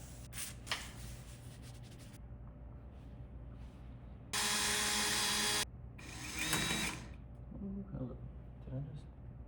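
A power drill bores into a sheared screw sitting flush in a metal porch door, with one loud grinding burst of about a second, surrounded by quieter scraping and handling noises and a person talking.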